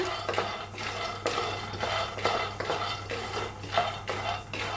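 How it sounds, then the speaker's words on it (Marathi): Peanuts dry-roast in a pan while a metal spoon stirs them, a rhythmic series of scraping and rattling strokes close up over a steady low hum, with no voices. "शेंगदाण पहिलं भाजून घेऊया चांगले शेंगदाण भाजून घेऊया करपूस"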